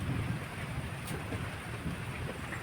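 Heavy torrential monsoon rain in a Himachal hill village, a steady dense hiss of downpour with a low rumble, close and continuous with no talk.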